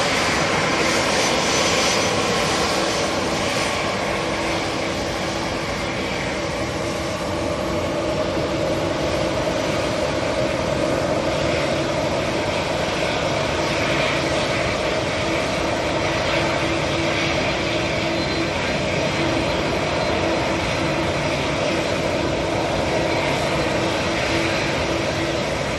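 Jet engines of an Aer Lingus Airbus A330 at Manchester Airport give a continuous broad roar that holds steady and fairly loud throughout, with no talking over it.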